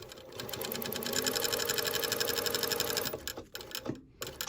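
A sewing machine stitches a narrow seam on a shirt cuff, a close, fast and even mechanical whir that runs for about three seconds, then stops with a few light handling clicks.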